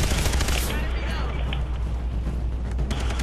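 Gunfire in Far Cry 3 co-op play forms a dense, loud, continuous barrage of shots and booms that fills the whole stretch.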